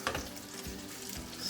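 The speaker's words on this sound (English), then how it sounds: "Stirring out the grits." Grits being stirred in a pan on the stove, a steady close scraping and bubbling with soft periodic strokes of the spoon, no voices.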